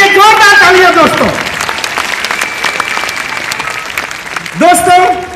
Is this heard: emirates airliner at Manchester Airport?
no